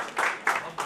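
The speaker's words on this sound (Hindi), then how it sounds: "एक बार जोरदार तालियां बजाएं।" An audience at a mushaira poetry gathering in Dehradun claps in three short swelling bursts, a crowd's applause heard fairly faint and quick.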